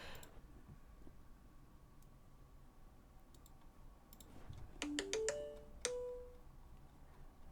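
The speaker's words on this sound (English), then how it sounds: "I need to silence my phone. That's annoying." A phone ringtone plays as a short run of bright rising electronic tones with a few clicks, rising out of quiet room noise near the end.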